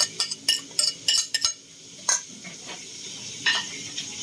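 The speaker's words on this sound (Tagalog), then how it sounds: "Siyempre, halo-haloin natin mga kabuko." Bitter gourd salad is tossed together with pieces of fried fish, giving a scatter of light clinks, scrapes and stirring sounds in quick bursts, with quieter gaps between them.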